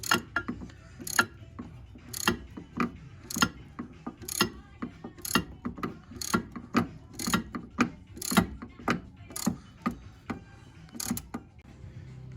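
A ratchet works steadily on a Dodge Charger ScatPack front suspension while a control arm is removed with an arm puller: a close, loud run of sharp repeated clicks, evenly paced for the full stretch.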